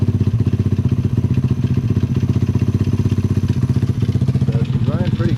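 A four-speed drift trike engine idles close by with a fast, even putter and a light rattling clatter, running steadily alone before a voice briefly cuts in near the end.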